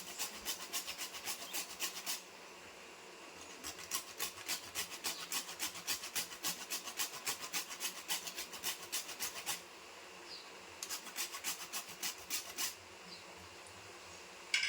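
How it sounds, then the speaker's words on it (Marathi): Nutmeg grated by hand against a grater, quiet rapid scraping strokes in rhythmic bursts with short pauses between runs. "आणि जायफळ पण मी थोडं किसून घेते यात."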